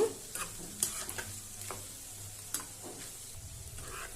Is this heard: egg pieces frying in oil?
yes